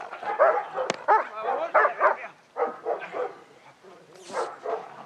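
A black German Shepherd barks and yips in a run of short outbursts, mixed with whimpers, close and fairly loud over about five seconds.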